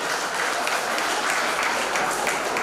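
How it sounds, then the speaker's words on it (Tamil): At a National Consumer Rights Day ceremony, the audience gives a burst of applause for a man who sang an Ayyappa devotional song: dense, steady clapping filling the hall for a few seconds, with no one speaking. "அவருக்காண்டி ஒரு கைத்தட்டல்."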